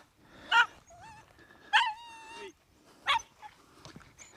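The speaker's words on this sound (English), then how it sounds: "You can hear Tyson crying now because I've come back into view" A dog named Tyson whimpers and cries in three separate high, wavering bursts with quiet gaps between them, heard close by at a Dartmoor campsite.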